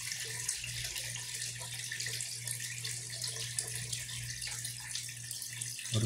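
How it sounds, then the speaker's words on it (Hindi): Water pours steadily from an overhead tank into an underground tank during a test of a DIY automatic liquid level controller, a continuous close rushing flow with a low steady hum beneath and no talk. "अभी ओवरहेड टैंक से पानी अंडरग्राउंड टैंक में"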